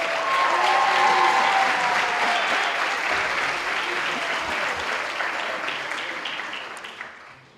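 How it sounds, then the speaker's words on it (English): Festival audience at an art and tourism film festival applauding the jurors, a loud, sustained wash of clapping that gradually fades out toward the end, heard alone without talk. "I'd like to ask for a big applause again for the jurors"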